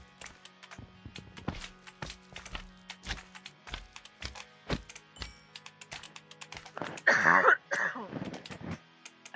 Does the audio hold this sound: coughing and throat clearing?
yes